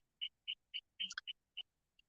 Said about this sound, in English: Birds be doing bird things and always singing.